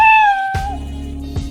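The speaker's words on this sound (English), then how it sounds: "when space key is pressed, start meow sound" A cartoon cat meows once in a short, clear, high mew from the Scratch programming tool, triggered by pressing the space key, followed by a low thud-like background sound.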